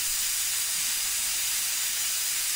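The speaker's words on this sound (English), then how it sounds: "That is an old school pressure cooker, man." Steady, loud hiss of steam venting from an old school pressure cooker in a Delhi street food kitchen, a continuous broadband rush with no pauses.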